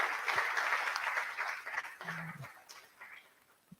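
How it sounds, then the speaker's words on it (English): At the close of a conference session, an audience applauds the eight speakers with scattered, moderate clapping that thins out and fades toward the end, with a brief low murmur partway through. "Can we give a big round of applause to all the 8 speakers?"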